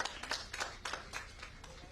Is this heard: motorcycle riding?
no